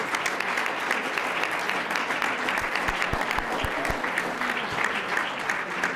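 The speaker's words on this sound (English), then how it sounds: "a round of applause for all of our candidates" An audience applauds the candidates at a South Bend Democratic Common Council at-large primary debate. The clapping is continuous and fairly distant, with a few sharper claps standing out nearby.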